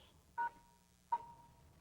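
Two faint, brief telephone keypad tones, spaced under a second apart against a quiet background, as a caller dials into a conference line for a town planning board meeting.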